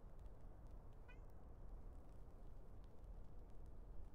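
A cat meows once, briefly and softly, over a steady bed of low background noise in the video game Chants of Sennaar.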